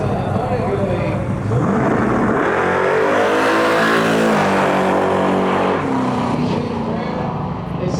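Drag race cars from a Lights Out 16 eliminations event roar down the strip, a loud rising engine howl that swells past and then fades away, with voices heard faintly under it.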